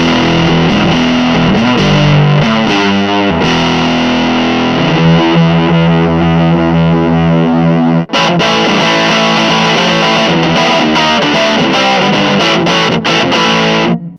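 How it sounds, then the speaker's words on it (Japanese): Guitar through a Limetone Audio fuzzhog two-knob fuzz pedal with gain at maximum, thick and heavily saturated, strummed chords and sustained riffs played loud and continuous for several seconds. "こんな感じでファズなんですよ"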